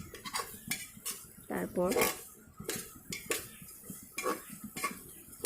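Egg biryani rice being stirred in a pressure cooker pot, with a spoon scraping and clinking against the metal in a series of close, irregular clatters while a person talks over it.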